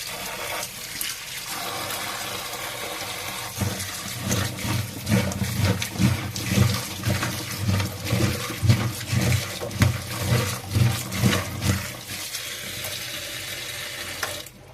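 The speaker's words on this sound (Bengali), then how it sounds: "এখানে আমি কেটে রাখা সবজিগুলোকে ধুয়ে নিচ্ছি।" Chopped vegetables being rinsed under running water in a kitchen, a steady rushing stream with rhythmic splashing and sloshing pulses as the pieces are washed, loud and close.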